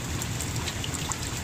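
Steady rain pours onto a 4000 gallon salt pond outdoors, a dense, even hiss of drops striking the water with scattered brighter splashes and no voices.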